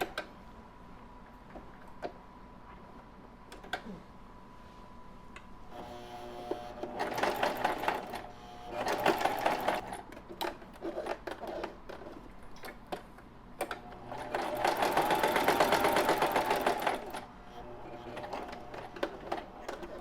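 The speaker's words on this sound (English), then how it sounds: "So I put my sewing machine back to straight stitch now, and I'm going to straight stitch around the stem." Sewing machine straight stitching around a fabric stem on a mug rug, running in two sustained whirring bursts with quiet ticking and clicking between and no talk.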